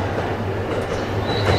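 A Hayabusa Shinkansen bullet train pulls into a platform at Tokyo Station with a loud, steady rumble of wheels and rolling stock that fills the whole moment, with no voices.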